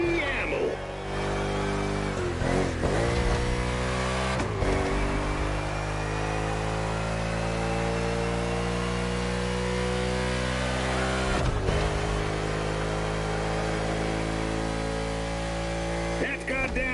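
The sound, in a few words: race car accelerating in the video game The Crew Motorfest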